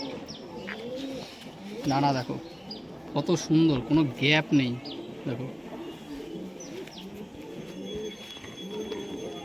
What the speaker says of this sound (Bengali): দেখো বন্ধ লেজের পায়রা